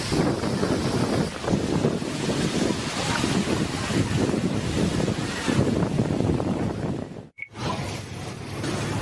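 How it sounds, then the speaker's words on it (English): Water rushing hard around a boat during a flash flood, a loud, steady roar with wind buffeting the microphone. It cuts off abruptly near the end, then resumes more quietly. "The flash flood made their excursion even more exciting and reminded them who is the boss on our planet."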